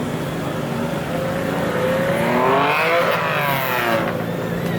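Nissan Skyline R33 (ghost-coloured) engine revving at a JDM car meet in Okinawa, Japan, a sustained close engine drone swelling in pitch mid-clip then easing, with crowd ambience behind and no talk.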